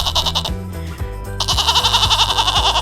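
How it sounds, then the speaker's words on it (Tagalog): A goat bleats repeatedly in a wavering, fairly loud series of cries, with a short quieter gap before the bleating resumes and continues to the end. "Nakahag tuloy ako sa kambing na ito"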